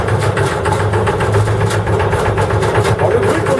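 A Dutch tjalk barge engine runs close and loud with a steady, rhythmic pulsing throb, a belt adding a whirring tone over the low drone.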